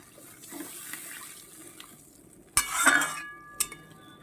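Water poured from a vessel into a pan of fish curry at a home stove, a short splash and gurgle after quiet background, ending with a small clatter.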